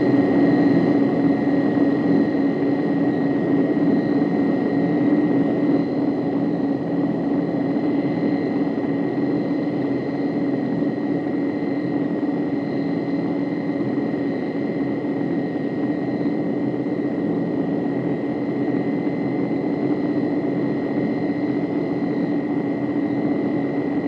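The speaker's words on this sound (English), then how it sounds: "That's the advantage of a propeller turbine." Inside an airliner cruising in flight, the steady, even drone of Rolls-Royce Dart propeller-turbine engines fills the cabin, a continuous smooth hum with a constant tonal whine on top, unchanging throughout.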